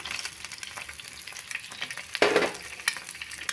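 Eggs fry in a pan, a close, continuous crackling sizzle with irregular pops. It flares briefly louder near the middle, as if another egg is added.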